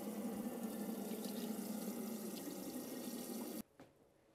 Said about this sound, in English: 2 cups of lentils there. And I'm going to rinse these.